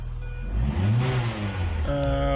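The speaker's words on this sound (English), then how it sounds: "As you can see, we are now cranking and running every time" A 2001 Mini Cooper engine cranks briefly, then catches and revs up to a steady idle. The sound is close, loud and continuous.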